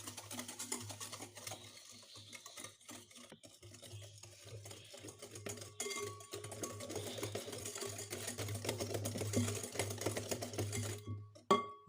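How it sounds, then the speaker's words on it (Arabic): Sugar is stirred into egg in a bowl for a quick cold dessert, giving a continuous close scraping and swishing rhythm with a hard clink near the end. "غادي نخلط هاد السكر مع البيضه كيذوب ليا السكر"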